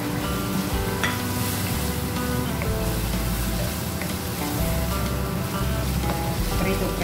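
Loud, steady sizzling of a hotdog frying in a pan, a constant crackling hiss close to the mic with no talking.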